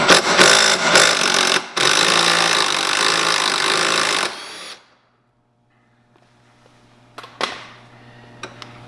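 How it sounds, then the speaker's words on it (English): A power tool whirs loudly and close for a few seconds while backing a bolt out of a Can-Am Maverick X3 seat, then cuts off, leaving near silence with a few sharp metallic clicks and clinks. "Take this bolt off too, so that we can take the seatbelt off."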